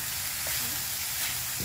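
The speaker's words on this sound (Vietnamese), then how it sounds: "Đã con nghe nó xèo xèo." Steady sizzling and crackling of food frying in a hot pan, a continuous hiss with no talking.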